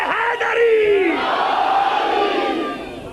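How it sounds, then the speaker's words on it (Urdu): A large congregation at a majlis roars out the religious slogan Nara-e-Haidari in a loud, sustained collective shout, with one voice rising first and the crowd swelling in together, filling the room before tapering off. "بھائی سارے نعرے لگاؤ"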